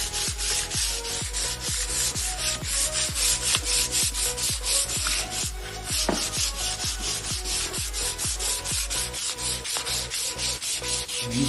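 Wood being hand-sanded with 150 grit sandpaper in steady back-and-forth strokes, an even rasping rhythm roughly twice a second, close and alone, with no voices.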